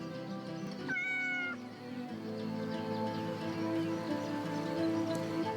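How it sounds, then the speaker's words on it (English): In the video game Yes, Your Grace, a cat being petted gives one clear meow over steady game background music and ambience. "Can I pet the cat?"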